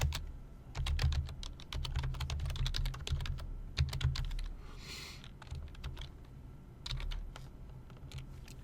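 Rapid typing on a computer keyboard, dense bursts of close key clicks with short pauses and occasional heavier keystrokes, no voices.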